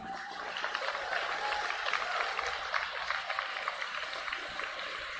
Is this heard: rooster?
no